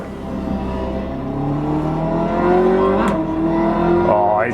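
A car engine in a full-motion driving simulator rig hums loudly and climbs steadily in pitch as it accelerates, with a gearshift dip near the end and no talking.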